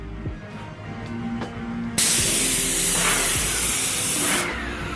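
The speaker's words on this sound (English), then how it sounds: "So yeah, let's get spraying." A spray gun mists paint onto timber door and window shutters, a loud steady broadband hiss bursting on about two seconds in and holding near and constant before easing off, over a low background hum.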